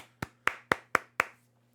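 Five sharp hand claps at an even, unhurried pace, close and distinct, each with a short decay, then quiet, over a faint low steady hum.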